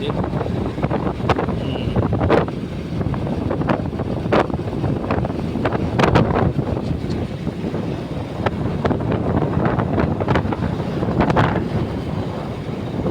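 Wind buffets the microphone on a road trip through the countryside of Kandhamal, a loud, continuous rushing roar with gusty bursts throughout and no talk.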